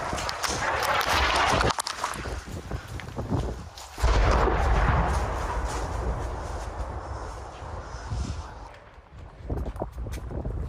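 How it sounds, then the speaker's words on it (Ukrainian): Explosions and artillery fire in a city under bombardment, heavy booming blasts and rumbling detonations overlapping loudly with dense crackling and a continuous roar, close and intense throughout. "ці вибухи линають в місті"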